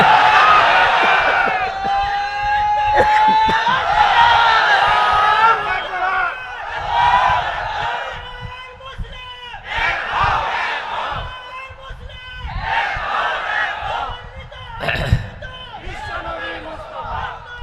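A large crowd at an Islamic gathering in Bangladesh shouts a loud unison chant in answer to the takbir call, with repeated swelling waves of massed voices over about eighteen seconds.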